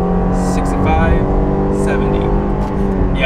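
Interior of a 2022 Jeep Grand Cherokee Overland accelerating from 55 to 60 mph on the highway, with a steady engine drone and road roar filling the cabin.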